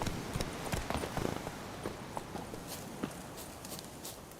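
Hooves of the horse Roach in The Witcher 3 clip-clop at a running pace, a steady close rhythm of hoofbeats over faint background ambience.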